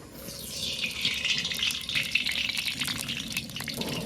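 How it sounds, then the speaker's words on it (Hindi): Mustard oil poured into a hot iron kadai for a big batch of potato curry, giving a steady bright hiss and sizzle that rises after the first moment and keeps going without pause. "कढ़ाई हमारी गर्म हो गई है, इसमें ऐड करेंगे सबसे पहले हम सरसों का तेल।"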